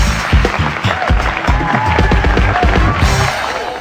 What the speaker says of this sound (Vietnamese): bây giờ chúng ta sẽ cùng nhau dành thêm một tràng pháo tay nữa